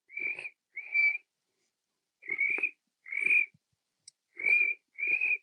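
A person imitates a cricket chirp with the voice, making six short shrill whistled chirps in uneven bursts separated by pauses, close and clear, with no other talk during them.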